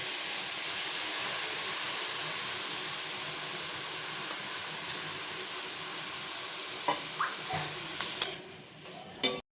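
Tomatoes sautéing in a pan for mushroom biryani give off a steady, loud, close sizzle that fades a little over time, followed near the end by a few brief clinks and scrapes of a utensil against the pan.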